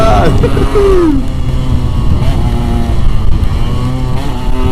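A Yamaha RX King motorcycle revs hard at full throttle, a loud, continuous engine roar with a rising pitch sweep early on, close by and steady throughout.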